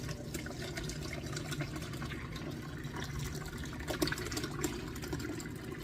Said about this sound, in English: So I'm gonna carefully pour this into my cloth here.